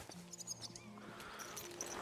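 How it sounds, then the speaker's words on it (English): A horse whinnies briefly in Kingdom Come Deliverance 2, a rising neigh over a soft game ambience with faint hoof clip-clops and rustling, no talk. "Let's hop on the horse."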